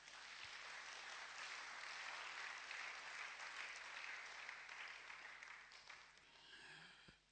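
Steady applause from a church congregation fills the whole stretch, dense and sustained at moderate distance, easing slightly toward the end, with no speech over it.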